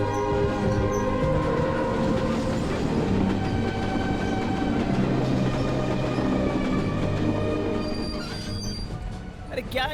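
A train slowing toward a station: a loud, continuous rumble of railcars with squealing wheels and rattling, easing off near the end, with voices talking underneath.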